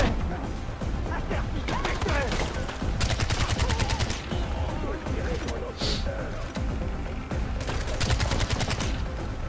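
Rapid gunfire in the video game Far Cry 4, bursts of close automatic shots and single cracks repeating through the scene with game effects around them.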